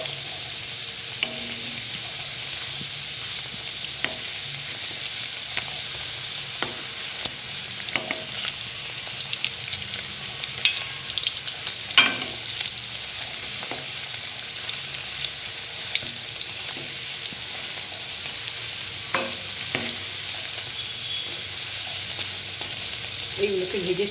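Balushahi, a Bengali sweet, frying in hot oil: a steady hiss of bubbling oil runs throughout, broken by occasional soft clinks and scrapes of a utensil.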